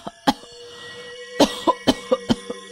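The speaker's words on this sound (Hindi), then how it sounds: "उसे खांसी उठती है।" A sick woman coughs in a series of sharp bursts, one early cough, then a pause, then five quick coughs in a row, fairly close in a quiet room.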